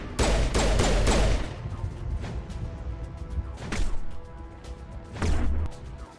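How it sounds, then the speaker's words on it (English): Geth trooper gunfire in the video game Mass Effect: loud bursts of rapid shots with crashing impacts, heaviest at the start, then returning in sharper volleys midway and near the end, with no voices. "Where's this Geth trooper that's shooting?"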